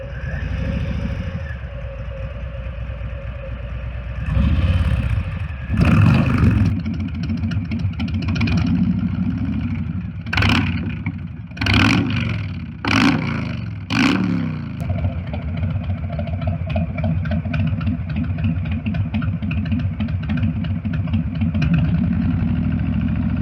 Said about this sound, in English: a little more thump out of the exhaust